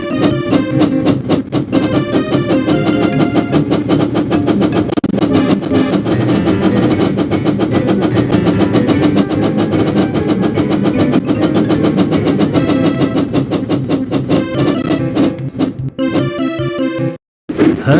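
Percy the engine races at speed in the Thomas Hero of the Rails Wii video game, a loud continuous rush of game engine chugging and clattering with music-like tones throughout, dropping briefly near the end.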